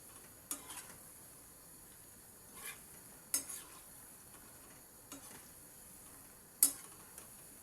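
Food frying in oil in a pan over a low-medium flame, a soft steady sizzle under a handful of sharp spatula clicks and scrapes as it is stirred and turned, close and quiet.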